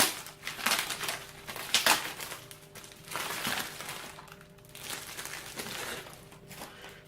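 A plastic cover being pulled off a water filter cartridge, giving a run of crinkling, crackling bursts with a few sharper snaps, close and fairly loud, with no voices.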